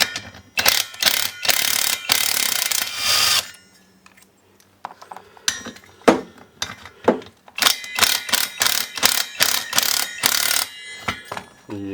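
A ratchet wrench with a 17 mm socket loosening the clutch nut on a DWT BFS 43 petrol brushcutter, rapid loud clicking bursts of the pawl in several runs separated by short pauses, close up and with no talking.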